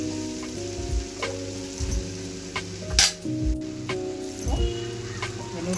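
Boiled noodles tossed into a hot pan with vegetables, sizzling under repeated metallic clinks and scrapes of a spatula, steady frying hiss throughout.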